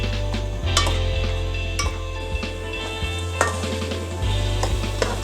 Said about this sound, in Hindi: अब इन सारी चीज़ों को, सारे मसालों को हमने अच्छी तरह भूनना है।